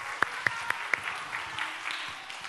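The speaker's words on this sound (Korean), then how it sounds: "박수 한번 보내주세요" Audience at a church youth service claps, opening with a few sharp separate claps that blend into a short, soft scattered round of applause.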